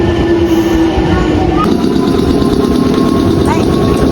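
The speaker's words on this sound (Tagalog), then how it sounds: "Oh, the train is coming." Continuous loud rumble and hum of a train arriving at a station in Japan, with faint squeals and tonal whines over a steady low-frequency roar, heard up close throughout.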